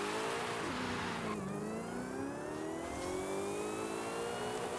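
Supercharged Porsche engine in Forza Horizon 5 revving hard and climbing through the gears, with a steady rising supercharger whine layered over the engine note, loud and continuous with no talk.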